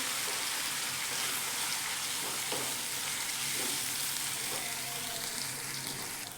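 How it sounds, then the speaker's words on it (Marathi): Soaked chana dal sizzles in hot oil as it is fried for a flower-bud vegetable dish, a steady, dense crackling hiss that stays close and even throughout with no talking. "थोडीशी डाळ आपल्याला परतून घ्यायची त्याला"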